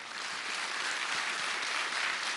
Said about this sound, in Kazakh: Ерлан Баташұлына бір қол шапалақтарыңыз